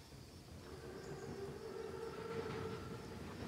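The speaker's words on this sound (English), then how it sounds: "Train's right on time. Biggest train I've ever seen." A large armored train rolls through a Call of Duty WWII battlefield, a faint, distant rumble with a sustained whistle-like tone swelling slightly over a few seconds.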